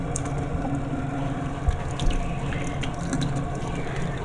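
Warm water runs steadily from a tap during a bath-and-body routine, a constant close splashing stream with a couple of small knocks and no talking.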